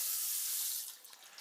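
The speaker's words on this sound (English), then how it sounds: "one way that you can turn off the faucet after you finish washing your hands is to use your elbow" Water runs from a sink faucet during a hand washing demonstration, a soft steady hiss of flowing water that thins and turns spattery toward the end.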